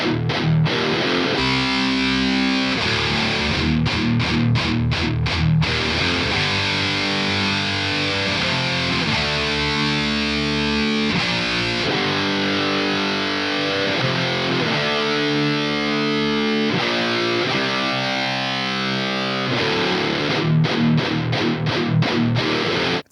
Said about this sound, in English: And this is the reamped guitars.